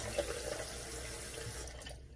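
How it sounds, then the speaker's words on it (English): Tap water runs steadily from a faucet into a sink while shaving soap lather is being prepared, a soft continuous splash with no talking. "I could add more water"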